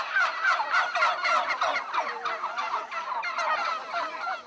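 A turkey gobbles repeatedly in rapid, warbling bursts, fairly close and clear, with a steady run of throaty calls across several seconds and no speech.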